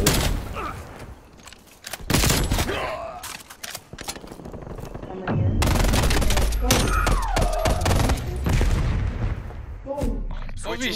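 Grenade launcher fire and explosions in a Call of Duty multiplayer match, heavy booming blasts and bursts of gunfire with a loud sustained roar midway, talking heard over the action.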